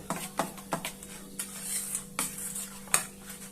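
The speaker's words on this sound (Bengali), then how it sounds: "ভালো করে মিশিয়ে নিচ্ছি।" A spoon stirs batter of flattened rice and semolina mixed with Eno in a bowl, knocking against the sides in a string of sharp, close clinks at an uneven rhythm, with soft scraping between them and no talk.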